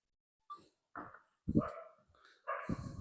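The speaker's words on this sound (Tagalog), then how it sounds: "Ang ingay ng aso." A dog barks several times in short, uneven bursts, fairly close, with quiet pauses between barks and no talking.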